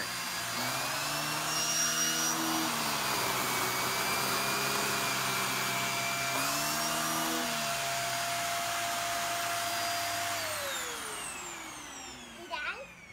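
A vacuum cleaner with its hose attachment roars steadily and loudly close by, its pitch dipping and rising twice as the hose is worked over surfaces, then winding down near the end with a few knocks.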